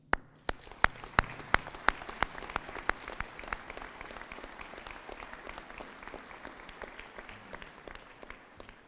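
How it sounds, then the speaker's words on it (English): An audience at a 2022 Community Salute to Service ceremony applauds in sharp, separate claps that are loudest at the start, then thin into a looser, quieter patter that lasts several seconds, with no talking. "Please join me in a round of applause for our parents, family, members,"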